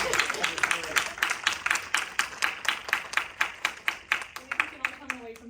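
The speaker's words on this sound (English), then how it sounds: "I think I'll let everybody clap." A group of people clap in a steady, rhythmic unison, the claps loud and evenly spaced, continuing for several seconds.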